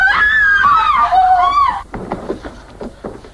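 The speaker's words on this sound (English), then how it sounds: "why do women scream so?" A woman screams in a long, loud, wavering high-pitched wail lasting nearly two seconds, after which it cuts off and scattered rustling and muffled voices follow, in a sitcom scene set in a hotel.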